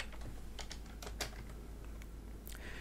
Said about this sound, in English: I'm gonna type this in here.